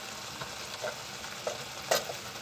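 Yogurt sizzles in frying masala for palak paneer, a soft steady fry with a few brief scraping stirs of a spoon in the pan.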